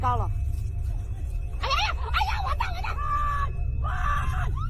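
Several people on a narrow, dangerous mountain trail scream out in short, sharp bursts of alarm as a hiker loses balance and slips, the shrill cries rising over a steady low background rumble.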